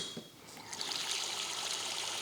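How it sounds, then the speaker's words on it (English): Water poured into a container of rocks nestled around a large flower bulb, a steady close trickle and splash that swells after a brief start and runs on evenly. "we're gonna nestle it down into the rocks and then just add our water."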